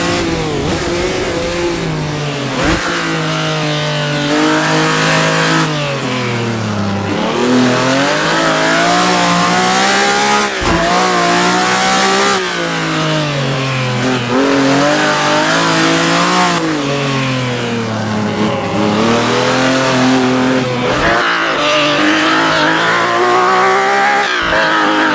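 Race car engine in Assetto Corsa revving and shifting along the laser-scanned Targa Florio road course, loud and continuous with rising and falling pitch through gear changes, occasional tyre skids, no talking.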